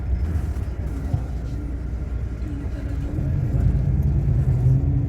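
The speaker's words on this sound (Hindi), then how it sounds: "वो वहाँ पे गाड़ी खड़ा कर रहा है।" A car rumbling at low speed as it pulls in to park near a mosque in Mecca, a steady close engine drone and road noise that thickens slightly toward the end.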